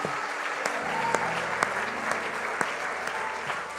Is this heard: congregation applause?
yes